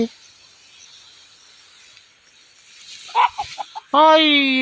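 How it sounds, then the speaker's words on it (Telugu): A hen resting in an open spot on a farm, with a few soft clucks near the end after a quiet stretch, then a louder rising call that closes the clip. "కోడి ఎక్కడ ఉందండి? ఇక్కడ పడుకుందండి."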